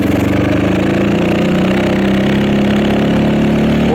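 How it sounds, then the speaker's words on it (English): A manual-transmission vehicle's engine runs at a steady, close, loud drone under a little throttle as it pulls away, pitch rising slightly and staying even throughout with no talk. "You can see I'm giving it a little bit of throttle."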